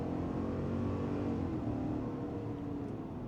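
A 2026 GMC Yukon Denali Ultimate with a 6.2-liter V8 and 10-speed automatic accelerates, its engine a low, steady, fairly muted rumble from inside the cabin, with no talking.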